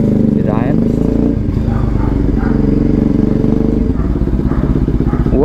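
A Bajaj NS 200 motorcycle fitted with an Akrapovic exhaust rumbles and revs loudly in a throaty, crackling pass close by, with people talking and exclaiming over it.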